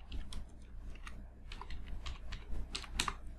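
Quick, uneven clacking of keys on a computer keyboard as text is typed, close and fairly soft, with bursts of keystrokes and brief pauses, and no voices.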